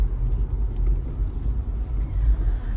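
Steady low rumble of a car driving along a road on a long trip to a hospital, a continuous interior drone with no talking.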